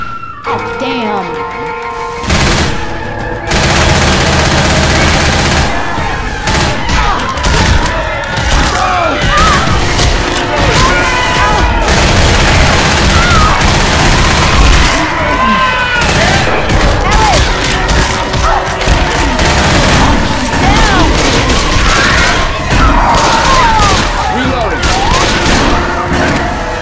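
Gunfire in Left 4 Dead 2 on the Dead Center campaign, loud dense bursts of rapid shots and thuds continuing almost without pause, with players' voices calling out between the volleys.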